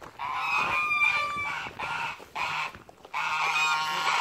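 A turkey or similar fowl calls loudly and close by in a series of about four harsh, honking bursts separated by short gaps.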